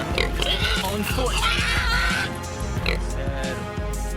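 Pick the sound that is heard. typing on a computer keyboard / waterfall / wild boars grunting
wild boars grunting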